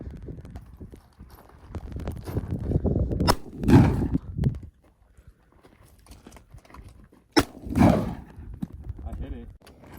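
A shotgun fires at a disco ball during a New Year's outdoor shoot, giving two sharp, loud bangs several seconds apart, with people talking in the stretches before and between the shots.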